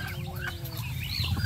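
Chickens at morning feeding time, a close chorus of overlapping clucks and short calls with steady farmyard background noise.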